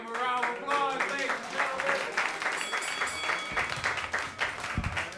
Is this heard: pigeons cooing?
no